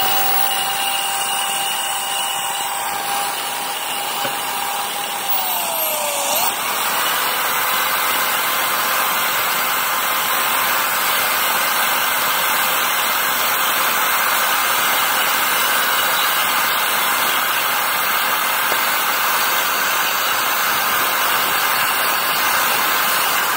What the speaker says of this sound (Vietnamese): Rồi bắt đầu khoan xuống nè.